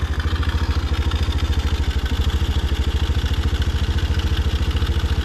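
A Boom Vader Gen 2 Grom clone motorcycle engine idles during carburetor tuning, a loud, close, even single-cylinder putter with a fast steady pulse and slight mechanical clatter, no voices.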